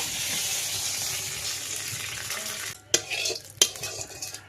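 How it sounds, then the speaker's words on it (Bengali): Oil crackles steadily in a wok on the stove for a fish curry with raw potato, then drops out and gives way to a few sharp clinks and stirring knocks of a utensil against the pan. "কড়াইতে একটু তেল দিয়ে দেবো"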